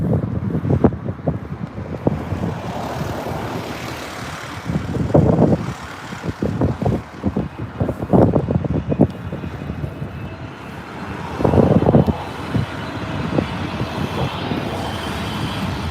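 A British Airways Boeing 777 at Heathrow airport produces a broad engine roar that rises and falls, mixed with gusty wind buffeting the microphone and a few bursts of louder rumble.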